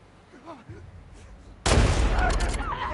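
Quiet ambience in The Last of Us Part II on PS5 suddenly gives way to a loud burst of gunfire that continues in rapid, booming shots to the end.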